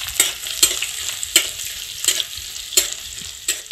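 Crushed garlic frying in a pan, with regular stirring scrapes about every half second to second cutting through a steady sizzle, close and moderately loud with no voices.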